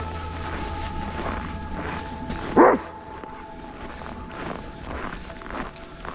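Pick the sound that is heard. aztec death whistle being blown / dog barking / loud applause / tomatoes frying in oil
dog barking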